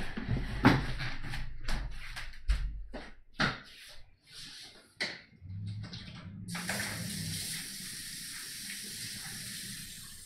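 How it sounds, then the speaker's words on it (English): Tap water running steadily for a few seconds as hands are washed at a sink, following some clattering handling noises, fairly close and with no talking. "Let me just go wash my hands in a sec."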